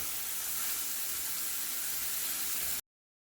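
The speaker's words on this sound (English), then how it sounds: "And then I'm just going to let them fry." Blackened pork chops fry in a pan with a steady, loud broadband hiss and sizzle that cuts off abruptly near the end.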